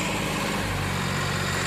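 A Massey Ferguson 8055 tractor fitted with a rotavator runs steadily nearby, its engine a loud, continuous low drone with an even chugging texture throughout.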